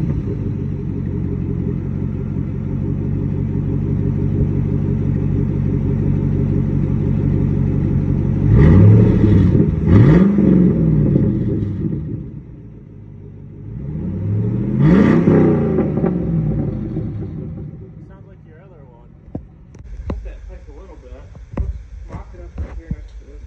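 A GMC Yukon engine running with no muffler fitted, a loud steady rumble with two or three sharp revs rising and falling, then settling to a quieter idle with clanking near the end.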